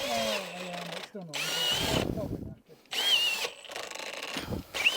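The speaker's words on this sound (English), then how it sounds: "Not the best demonstration how to drill a hole, to be fair." A power drill whines through several bursts of drilling a hole while building a garden room base, pitch dropping as it bites, with short pauses and a brief rattle between runs.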